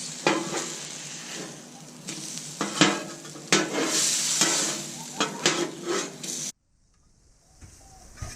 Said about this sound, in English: let you hear the sizzling that it makes